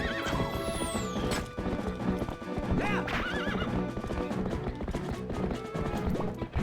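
Horse hooves clip-clop steadily in the game Zelda: Twilight Princess while riding, with whinnies, bright music and combat effects layered throughout.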